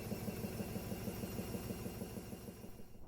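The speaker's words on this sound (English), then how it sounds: "I can hear the washing machine." A washing machine runs in the background of a quiet room, a faint steady low hum with a soft rhythmic thump throughout.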